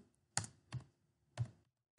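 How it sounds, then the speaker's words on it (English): Several separate keystrokes on a computer keyboard, three distinct clicky taps at uneven spacing, close and fairly quiet in an otherwise silent room. "I'm just going to type in sans serif."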